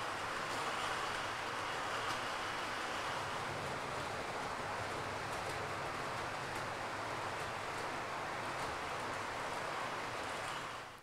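A steady, continuous rumbling whir of a model train running along the track of a helix on a model railway, unbroken from start to finish with no voices.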